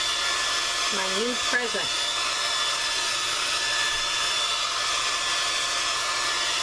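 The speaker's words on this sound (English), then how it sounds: "I should have plugged in that heat gun." A heat gun blows as a steady loud broadband roar throughout, with someone briefly speaking over it near the start.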